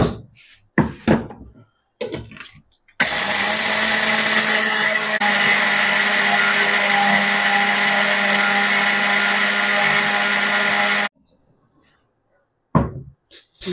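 A mixer grinder grinds curry leaves into spice powder, a loud, steady motor whir that runs for about eight seconds and cuts off abruptly, with brief clatter and handling noises before and after.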